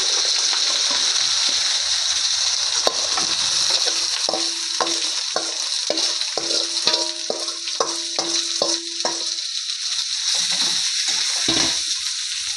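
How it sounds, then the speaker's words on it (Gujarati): Corn kernels are tipped into a pan of paneer curry and stirred, giving a steady sizzle with repeated scraping strokes of the spoon in the middle, close and fairly loud, with no talking. "હવે જો આમાં મકાઈ નાખી દેવાની છે."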